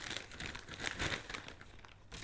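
Crinkling plastic bag being opened to get at Airfix 1/72 Fw 190 A-8 kit sprues, a continuous close, rustling crumple with brief tearing bursts.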